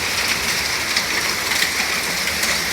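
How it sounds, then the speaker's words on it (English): Steady rain falls continuously, a dense even hiss of drops on surfaces with no voices over it. "Yo, let's sit back and watch the rain."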